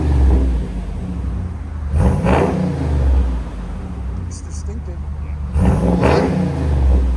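A RAM pickup's 6.4L HEMI V8 rumbles at idle, then is revved twice in sharp bursts that rise and fall, loud and nearby.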